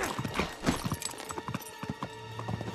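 Horse hooves in Uncharted 3: Drake's Deception clip-clop in an uneven rhythm, fairly close, with a few other faint game sounds mixed in.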